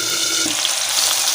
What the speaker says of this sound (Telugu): బొబ్బర్లు వేయించుకోవాలి